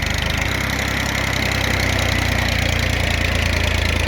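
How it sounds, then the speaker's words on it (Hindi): A Massey tractor (TAFE 30 DI) dragging a rotavator sunk into the soil at full lever down, around 1800 RPM; a loud, steady, close diesel chug with a rapid low throb and no break. "देखो रोटावेटर धरती में गड़ गया"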